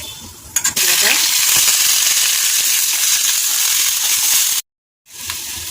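Onion and whole tempering spices frying in hot oil in a pan, a loud, steady close sizzle with a few sharp crackles, cut off by a brief silence near the end before the sizzle resumes.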